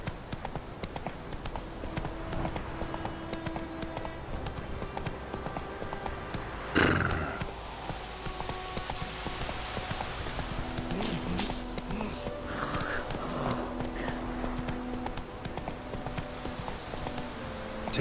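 In The Witcher 3: Wild Hunt, the horse Roach walks with steady clip-clop hoofbeats over a constant ambient bed, plus a brief whinny-like burst partway through and faint tack sounds, with no talk.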